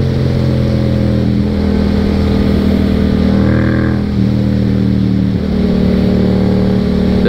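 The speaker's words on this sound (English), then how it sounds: "This thing is a beast for a 700cc engine." A Yamaha FZ07 700cc motorcycle engine while riding, a loud steady drone that holds its pitch with small shifts and a brief dip, close to the rider, with wind noise underneath.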